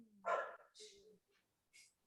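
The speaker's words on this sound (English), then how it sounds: "That's our dog." A dog barks indoors during a recorded talk, four quick, sharp yips and barks, fairly close and moderately loud with short pauses between.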